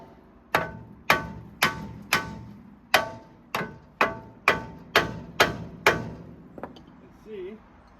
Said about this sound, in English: So what I'm going to try to do to remedy that is just beat this caliper.